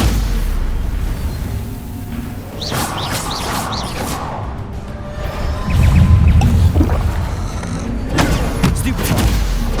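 Bombarda blasting spell explosion in the Hogwarts Legacy video game, a loud deep boom and rumbling blast with crackling debris, amid other game sounds and a voice speaking.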